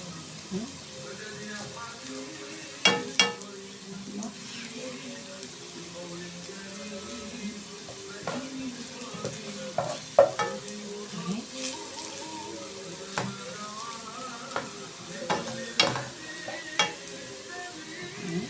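Onion and garlic frying in oil give a steady low sizzle, broken by scattered stirring scrapes and clicks, with a voice speaking intermittently over the cooking.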